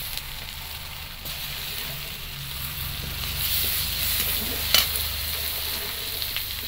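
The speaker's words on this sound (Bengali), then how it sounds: "পেঁয়াজটা একটু ভালো করে ভেজে নেব।" Chopped onion frying with cumin, nigella seeds and a little caramelized sugar in a pan, a steady close sizzle that swells slightly midway, with a sharp scrape near the end.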